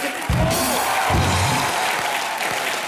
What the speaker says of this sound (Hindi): एक बार मिस्टर अभिषेक बच्चन के लिए जोरदार तालियां